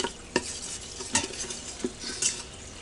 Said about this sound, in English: We're just going to kind of scrape the good stuff from the bottom.